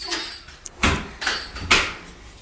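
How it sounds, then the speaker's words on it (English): A door is shut several times in a row, giving sharp knocks and thuds at uneven intervals with a short slam-like burst between them, recorded close by indoors and without talking. "Shut the door."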